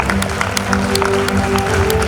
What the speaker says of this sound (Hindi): एक बार जोर से ताली हो जाए रुतबा के लिए